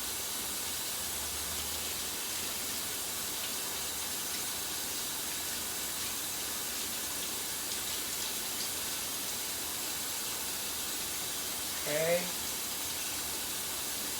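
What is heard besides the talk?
tap water rinsing pork chops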